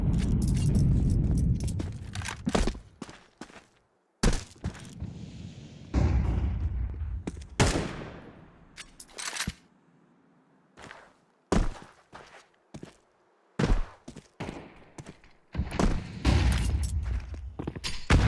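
AK-47 fire in Counter-Strike on Dust2 during a PGL Masters Bucharest playoff match, loud bursts of shots and booms alternating with footsteps and quieter gaps, close and without talk.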